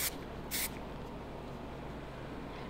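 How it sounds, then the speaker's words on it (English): Hairspray gets a final spray while finishing a nightclub hairstyle: one short, bright hiss of roughly a fifth of a second near the start, then quiet room tone. "Give it a final spray."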